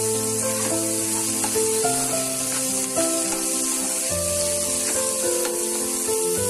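Onions fry in a pan with a pinch of salt for a cabbage egg fry, giving a steady bright sizzle that runs throughout beneath loud melodic background music.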